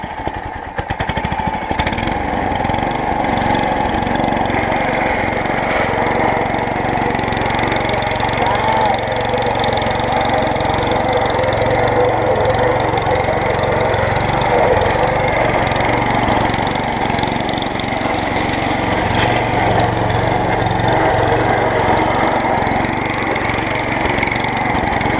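A scrap lawn mower with blades in need of sharpening runs continuously while cutting grass, a loud, close engine drone with rough chopping and rattling throughout.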